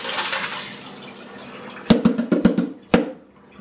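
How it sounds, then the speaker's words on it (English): Water draining from a container of homemade kimchi, with a steady rushing pour followed by several sharp clunks and knocks as the container is rinsed, close and fairly loud. "So now I'm just going to drain this and rinse it really good."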